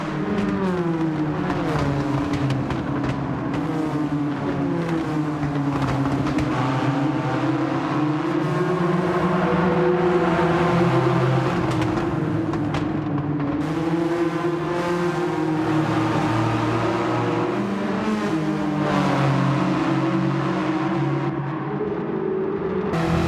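A Renault Clio race car engine in Gran Turismo, driven against GT Sophy: a loud, continuous engine drone that rises and falls steadily through gear changes over the whole stretch, with no voices.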